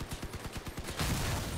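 Rapid automatic gunfire from vehicle-mounted guns in a vehicle combat game, a steady rhythmic burst of shots at moderate volume that gives way to a denser, noisier roar of sustained fire.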